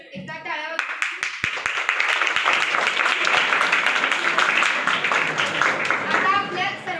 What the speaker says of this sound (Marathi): त्याचे सर्वांनी एकदा टाळ्या.